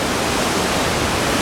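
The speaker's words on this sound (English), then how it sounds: "And this is the Pitt River coming swollen down from the Pitt 5 Dam" The swollen Pitt River in flood after days of heavy rain, coming down from the Pitt 5 Dam: a loud, steady, broadband rush of churning water, close and continuous with no let-up.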